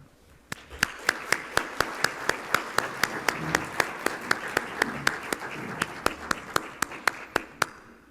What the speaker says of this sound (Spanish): Despedimos a nuestras autoridades con un fuerte aplauso